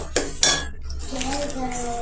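A metal spoon scrapes and clinks against a pot while mutton, garam and chicken masala are stirred into chicken for dum biryani, two sharp clanks, then softer scraping with a faint voice.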